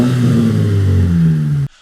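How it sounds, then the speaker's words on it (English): A modified Renault Clio engine revs up loudly and holds a strong, buzzy note before cutting off abruptly near the end, close and alone. "funnily enough, the car sounds good"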